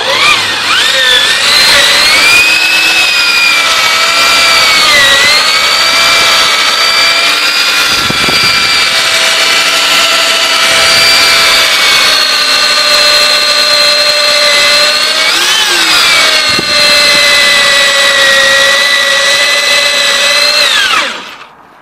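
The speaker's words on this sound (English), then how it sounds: "It didn't help, I gave him a dull drill bit." A power drill fitted with a dull bit runs during a car window motor repair, giving a loud, close, continuous high whine for about twenty seconds. The pitch dips slightly a few times before it stops abruptly.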